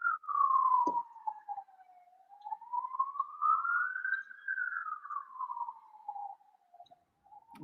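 A single wailing emergency siren from a police car or ambulance, one long slow rising and falling sweep, moderately distant and heard alone.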